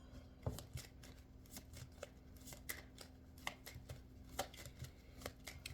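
Tarot cards being shuffled by hand in a quiet room, a steady run of soft riffling and slapping card sounds with light irregular taps, close and fairly quiet with no talk.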